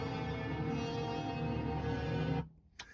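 Three horn samples from a Roland SPD-SX sampling pad sound at once as a single thick, sustained brass chord, loud and steady for over two seconds before cutting off abruptly.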